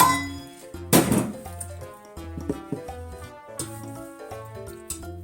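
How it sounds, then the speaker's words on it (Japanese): A sharp clatter of about 700 g of bones, roughly twelve pieces, dropped into a metal pot for bone broth, followed by lighter clinks and knocks as items shift and settle. "それを鍋に入れていきます。"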